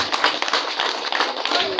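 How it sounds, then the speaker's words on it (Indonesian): Audience applause for a kiai at an Islamic religious sermon gathering, a dense steady patter of many hands clapping throughout, fairly loud and sustained. "Tepuk tangan buat beliau"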